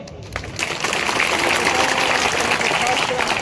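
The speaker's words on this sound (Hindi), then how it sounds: "तालियां थोड़ी कम बजी।" A crowd of polling booth workers applauding at a political rally, broad sustained clapping that swells after a brief quieter opening and carries on steadily to the end.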